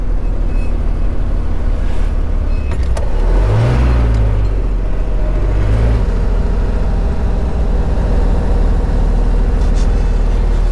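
A Magirus-Deutz diesel truck engine drones loudly and steadily as the driver shifts down through the gears, with low engine pitch dipping and rising around each shift and no talking over it.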